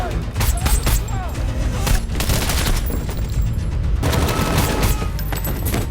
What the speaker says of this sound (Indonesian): Tembakan demi tembakan mereka pun diarahkan ke pasukan itu